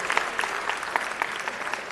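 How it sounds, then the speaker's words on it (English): Applause from an audience at a city council meeting, honoring a student athlete who earned a scholarship, a steady dense patter of clapping hands filling the room for a couple of seconds without speech. "give Noel a round of applause"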